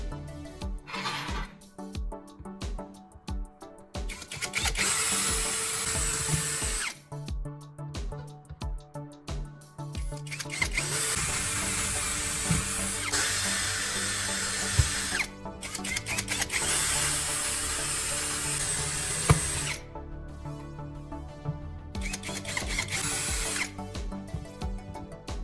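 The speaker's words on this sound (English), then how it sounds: "you take a drill and carefully make several small holes along the curved part of the" A power drill boring small holes in a curved copper pipe loop whines in repeated bursts, stopping and starting several times with short pauses between runs, loud and close.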